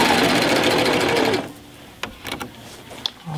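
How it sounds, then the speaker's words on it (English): A Baby Lock sewing machine stitches quilt binding, turning to sew off at a 45-degree angle. It gives a loud, fast, steady mechanical whir that stops abruptly, followed by a few quiet clicks and handling sounds. "I'm going to turn it and sew off at a 45 degree angle."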